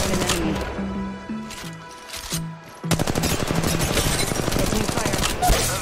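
Automatic weapon fire in Apex Legends Mobile, loud and close: a few scattered shots with tonal game sounds, then a sustained rapid burst of rounds that runs steadily to the end.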